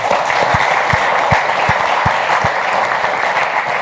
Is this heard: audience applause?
yes